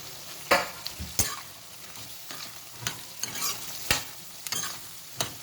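Potatoes being stirred and fried in oil, ghee and butter for palav: a run of sharp spoon scrapes against the pan, about eight uneven strokes, over a soft steady sizzle, close and alone.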